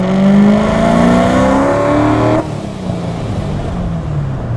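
A Hennessey 1000 HP C7 Corvette Z06 with factory catback exhaust revs hard with a rising tone, then cuts to a lower, steadier rumble partway through; loud and close, no voices.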